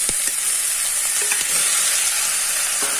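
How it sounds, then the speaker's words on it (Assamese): Meat hits a pan of frying onions for an Assamese chicken curry, giving a steady close sizzle with a few scraping stirs and no voices. "ইয়াত মই এতিয়া মাংসখিনি দি দিম।"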